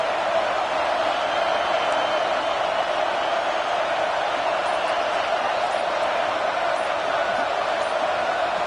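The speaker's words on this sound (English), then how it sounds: "This crowd going to try to make life miserable for these guys." Dense, steady roar of a large home football stadium crowd, loud and continuous with no breaks, a broad wash of massed voices and noise throughout.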